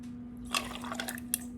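Chai is poured over ice in a cup for a cocktail, giving a short wet splash with light clinks of ice, close and fairly quiet over a steady low hum.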